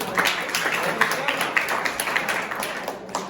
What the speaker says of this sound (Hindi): ताली तो बजा दो यार बच्चे के लिए।